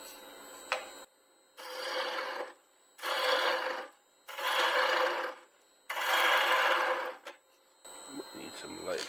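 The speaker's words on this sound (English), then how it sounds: "I'm sure scraping the inside." Lathe tool scraping the inside of a turned piece, four sustained rasping strokes each about a second long, separated by short pauses, close and fairly loud.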